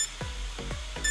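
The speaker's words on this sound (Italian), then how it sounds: "Il drone, come vedete, inizia a emettere dei beep." A GDU O2 drone emits a short series of electronic beeps after a firmware update, three or four descending tones spaced a few tenths of a second apart, close and clear with no talking.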